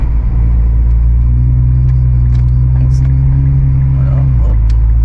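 A Nissan GT-R sports car drives along, its engine a steady, loud low rumble heard from inside the cabin, with the pitch dropping near the end as it eases off, and people talk faintly over it.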